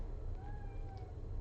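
A house cat lets out a single drawn-out meow, fairly faint and a little distant, in a quiet indoor room with a low background hum and no talking.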